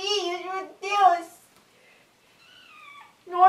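Kittens meow repeatedly and close by, several loud cries separated by a quieter, thinner mew in between.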